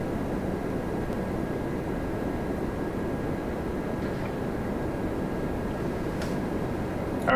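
An Aer Lingus Airbus A330-300 arriving from Dublin at Toronto Pearson, heard as a faint, steady, distant low rumble of jet engines with no talking.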